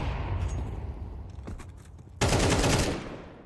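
Rapid AK rifle fire in a competitive tactical shooter match, a sharp, loud burst of automatic shots erupting near the end after quieter in-game ambience and scattered smaller pops, with no talk over it.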